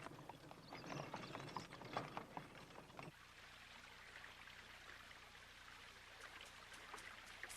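Horses' hooves clip-clop for a royal ride in a children's retelling of Puss in Boots, a brisk, rhythmic patter that fades after about three seconds, leaving a quiet background with faint clicks.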